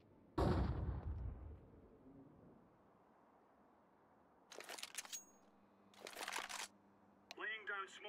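A flashbang grenade goes off in Counter-Strike 2 on the Vertigo map during competitive play: a sharp broadband blast near the start that fades into a long ringing tail, followed later by bursts of gunfire and game effects.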